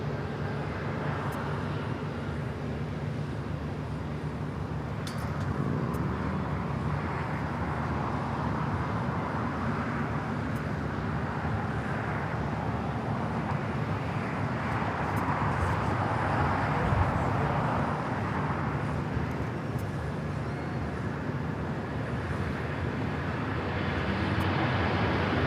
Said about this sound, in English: now rolling down at runway 25 right here on the south side